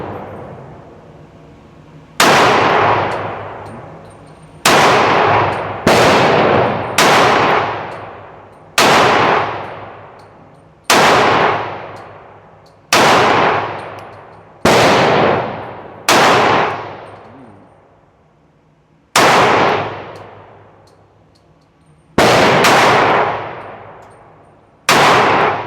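A Glock 31 Gen4 pistol firing at a range, with about a dozen loud, sharp shots spaced a second or two apart, each trailing off in a long ringing decay, and no voices.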